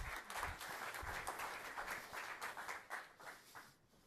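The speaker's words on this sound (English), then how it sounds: "And a round of applause for John." Applause from a business event audience welcoming a speaker, many hands clapping in a dense, even patter at a modest distance, tapering off toward the end.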